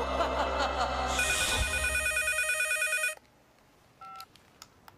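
A telephone ringing loudly and continuously with an electronic trill for about three seconds, then stopping abruptly, followed by a brief faint tone and near silence, with no talking.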